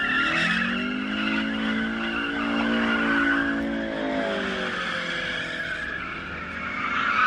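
At a Middle East customs post, a car spins its rear tyres in a long, loud skid, with a continuous squealing whine wavering in pitch over engine drone.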